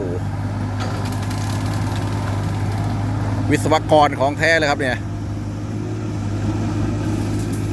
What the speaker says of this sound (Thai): มาเป็นเครื่องตัดหญ้านี่เองรถไมโครตัดหญ้าเนาะนะครับ